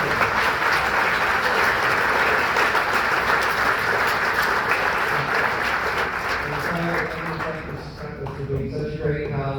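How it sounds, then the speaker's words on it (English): An audience at a high school honors band concert applauds steadily, a dense wash of clapping that stays loud throughout and thins slightly near the end. "Let's have a round of applause for everyone."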